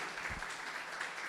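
A church congregation applauds first-time visitors, a soft, steady patter of clapping that stays fairly quiet and even throughout.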